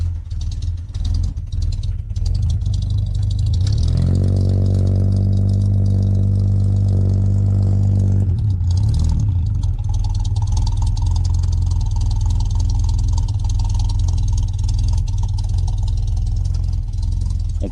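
An all-original vintage Chevrolet Opala engine that has never been taken apart idles with a low, rough rumble, then revs up into a strong, steady drone for a few seconds before settling back to a lumpy idle.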